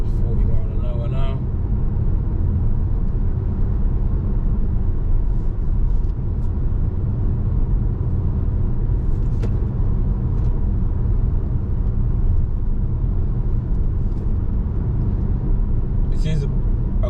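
A car cruising at about 40 mph along the Antrim coast road in Northern Ireland, a steady loud low road rumble and engine drone throughout, with faint brief ticks and clicks.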